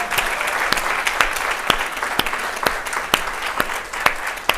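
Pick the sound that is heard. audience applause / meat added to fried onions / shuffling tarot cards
audience applause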